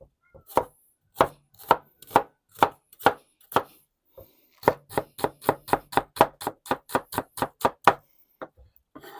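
A knife chops mushroom stuffing finely on a board in quick, steady close strokes, slower at first and then a faster even run near the end, with no talking.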